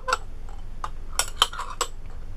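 A utensil scoops clumpy homemade liquid soap meant for dishes, hands and body, giving a few sharp clinks and ticks against the container, spaced irregularly and close by.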